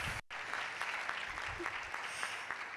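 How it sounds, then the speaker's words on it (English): Audience at a public lecture applauding a former college rector, a brief, fairly faint and distant patter of clapping hands in a large room. "Can you give him a round of applause?"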